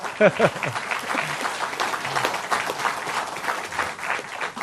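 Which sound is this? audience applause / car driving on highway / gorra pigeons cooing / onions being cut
audience applause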